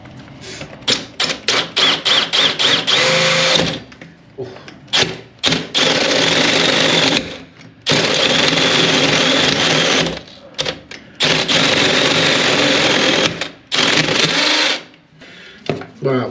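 A power drill is fitted to a plumbing fitting on washing machine pipework: a run of rapid short pulses, then several long whirring bursts of a few seconds each, close and loud, separated by brief pauses.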